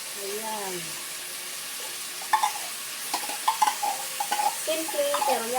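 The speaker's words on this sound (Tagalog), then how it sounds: "Binisang corned beef sa white onion." Corned beef with potato and white onion sautéing in a pan, a loud continuous sizzle with clattering utensil strokes, while a voice talks faintly at the start.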